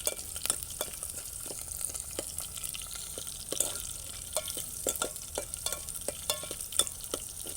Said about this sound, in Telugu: పచ్చిమిర్చి వేస్తున్నా. చూడండి, పచ్చిమిర్చిని మంచిగా ఆనియన్స్ మంచిగా కొంచెం గోల్డ్ కలర్లో రావాలి.